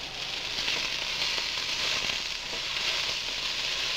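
An egg frying in a pan, a steady close sizzle with a dense crackle that holds even and continuous throughout, with no voices.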